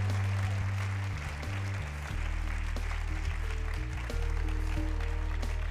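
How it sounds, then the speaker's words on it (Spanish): An audience applauds steadily for a contestant eliminated on a Mexican beauty pageant gala, with sustained low music tones running underneath throughout. "Démosle un gran aplauso."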